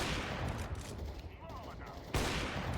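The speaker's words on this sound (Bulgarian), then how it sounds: "Гърмат ме в момента." Counter-Strike 2 gunfire comes as dense bursts of shots over game noise, with a louder volley near the end.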